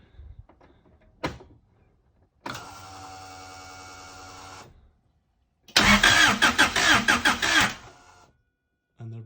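A turbocharged Honda Civic EG with a D16Z6 engine cranks with a starter whir, then a louder burst as the engine catches and runs roughly for a few seconds before cutting out, close by with no talk.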